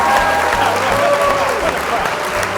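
A studio crowd claps and cheers for the hosts of a comedy talk show, a loud continuous wash of applause with a few voices calling out over it.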